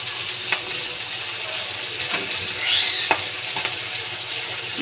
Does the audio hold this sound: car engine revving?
no